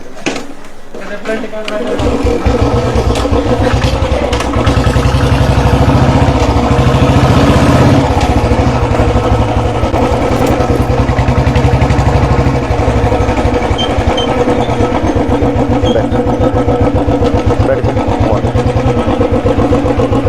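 A motorcycle engine starts up about two seconds in and then runs at a loud, steady, throbbing idle close by, continuing for the rest of the time while people talk over it.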